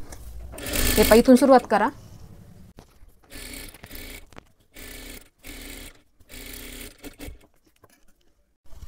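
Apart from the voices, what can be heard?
sewing machine stitching blouse lining edge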